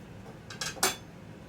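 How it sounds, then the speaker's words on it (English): Chef's knife slicing through snack cakes on a board, giving two or three soft, quick cutting strokes with a light clink of metal, close and fairly quiet. "now I'm going to take my handy dandy chef's knife here"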